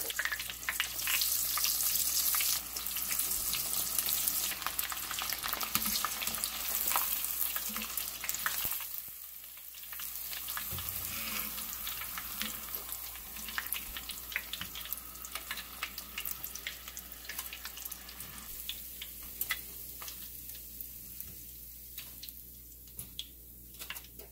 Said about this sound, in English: You want to fry little by little